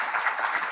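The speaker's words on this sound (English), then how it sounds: "I would love to have a round of applause for this awesome panel." A short burst of steady, dense applause fills a conference hall after a climate risk and insurance panel, heard alone with no talk.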